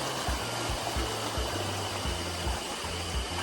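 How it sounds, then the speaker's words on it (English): A rushing torrent of water pours along a jungle walk in Uttarakhand, a dense, steady roar of stream or waterfall noise filling the whole clip with no pauses, heard close and loud. "we see this seething torrent of water like this"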